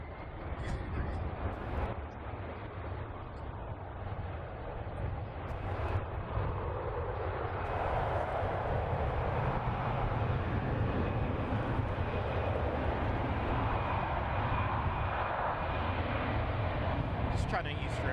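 A 777-300ER airliner at San Francisco Airport gives off a broad, continuous jet engine roar that swells after the first few seconds, with someone talking over it.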